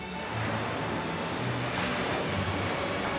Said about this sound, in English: catching waves at Hawaii's adaptive surf school